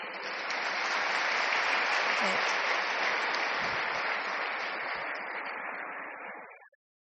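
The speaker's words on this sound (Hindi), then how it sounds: "बाकी सब जोरदार ताली बजाएं" Loud, sustained applause from a large audience at a spiritual gathering, a dense wash of clapping that holds steady for several seconds, then tapers and stops abruptly.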